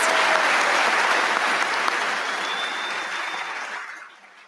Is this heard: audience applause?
yes